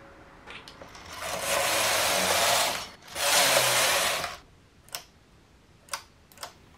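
Knitting machine carriage sweeping across a dress piece, two long loud rasping mechanical passes with a brief break between, followed by a few sharp isolated clicks close by.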